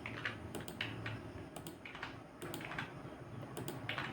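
Numbers being typed into an Excel spreadsheet on a computer keyboard: quiet, close-up key clicks in short bursts of several strokes with brief pauses between them, no voice.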